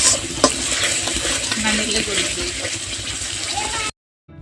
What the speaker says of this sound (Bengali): আবারও কিছুক্ষণ ভালোভাবে নেড়ে কষিয়ে নিব।